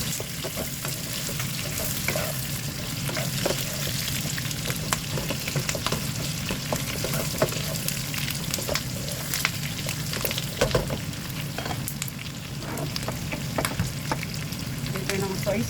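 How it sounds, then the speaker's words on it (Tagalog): Brown sugar sizzles and crackles steadily in a hot pan with spices, a constant frying hiss broken by scraping stir strokes, loud and close throughout. "Patunaw lang natin yung brown sugar"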